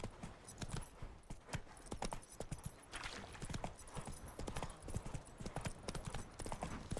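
Hooves of the horse Roach in The Witcher 3 video game pound in a fast, continuous gallop, close and even, with a brief whinny-like bit and no talking.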